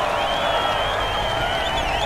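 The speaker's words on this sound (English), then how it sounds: "let us cheer him to show our appreciation" A crowd in the video game Road 96 cheers and applauds for the president, a steady, dense wash of voices and clapping that holds at an even level throughout.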